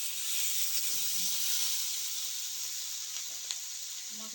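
Cauliflower and potato curry sizzles loudly in a pan as water goes in, a steady close hiss of steam and frying that holds for several seconds with faint stirring clicks beneath.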